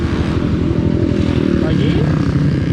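A motorcycle fitted with a Koso DB-03R speedometer and gear indicator pulls away in first gear, its engine droning loud and steady close by while someone talks over it.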